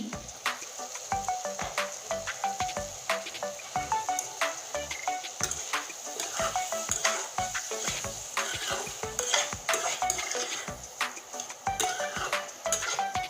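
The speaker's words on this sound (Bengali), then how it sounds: "দেখুন আলু পেঁয়াজ কষিয়ে নিয়েছি মশলার সঙ্গে" Potatoes and onions sauté with spices in a pan, with a steady dense sizzle and crackle broken by frequent clicks and scrapes of stirring, close and fairly loud throughout.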